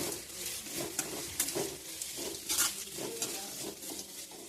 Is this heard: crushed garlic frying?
yes